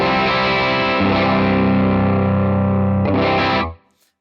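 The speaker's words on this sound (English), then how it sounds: "we're in full distortion territory now" Overdriven electric guitar chords through a Fractal FM9 ring out thick and sustained with heavy distortion, a brief restrum near the end before the sound cuts off abruptly.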